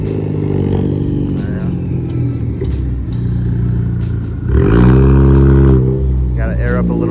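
A 2015 Ford Focus ST pulls away with a loud, steady engine note that swells sharply partway through as the car drives off, then settles back to a strong hum.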